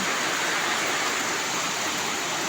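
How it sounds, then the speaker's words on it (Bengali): Heavy rain falls in a constant, unbroken roar close by, spattering on surfaces with no talk over it. "রহমতের বৃষ্টি হচ্ছে।"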